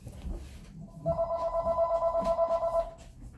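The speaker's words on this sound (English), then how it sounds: "now my phone is ringing" A telephone rings in a rapid warbling trill for about two seconds, moderately loud and close, with faint background noise around it.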